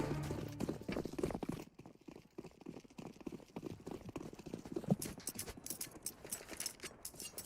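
Rapid, soft footsteps in Counter-Strike, pattering steadily across the whole stretch at low level under busy game ambience, with the scuffs bunching more densely toward the end.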